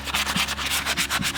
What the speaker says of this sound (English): So I'm using 220 sandpaper